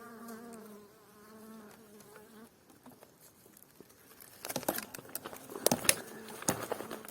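Honey bees buzz steadily at first around their nest in a tree on a mountain, then loud busy crackling and rustling take over, with buzzing bees close by and a voice briefly in the background.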